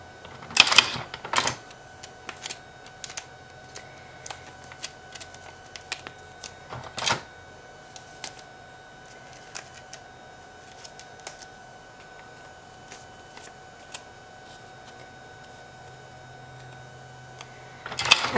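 Tape pulled and pressed onto the sides of a sublimation blank, a few crisp ripping and tapping bursts at the start, middle and end over a faint steady hum.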